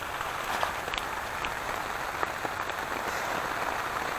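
Steady rain falls at night in Thailand, a dense even patter with scattered sharper drops close by, continuing alone without voices.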